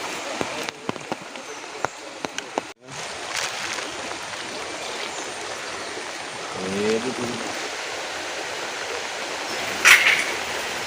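Floodwater pours through brimming streams in Panangad, Kozhikode, a steady rushing wash throughout, broken by a few knocks and a brief thump, with a voice heard faintly.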